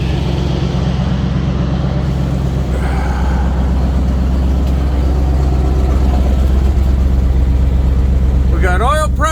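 A Ford F-350 truck engine runs steadily after an oil pan and gasket repair, a continuous low idle rumble close by, with people talking over it throughout.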